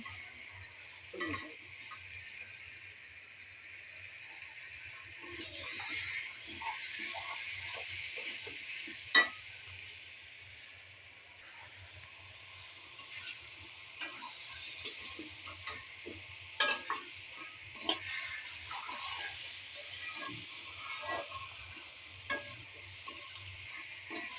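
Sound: stir-frying tilapia and taro curry with spices

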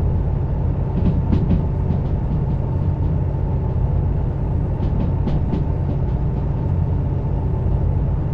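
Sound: DH4 diesel locomotive running on rails in Derail Valley video game

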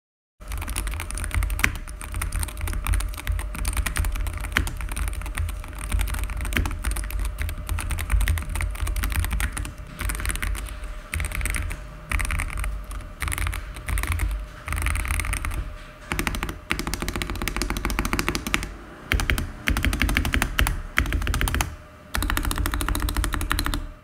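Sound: typing on SteelSeries Apex Pro TKL Gen 3 keyboard

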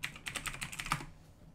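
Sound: typing a password on a computer keyboard

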